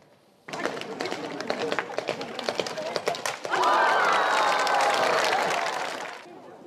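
Spectators at a yabusame horseback archery event at a shrine in Kagoshima, a galloping horse and scattered claps swelling into a loud burst of crowd cheers and applause that carries on, then fades.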